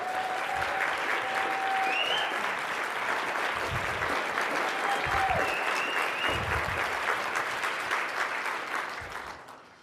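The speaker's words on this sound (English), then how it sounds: "deserves a standing round of applause" A room full of people claps steadily for several seconds, the applause holding strong before tapering off at the end.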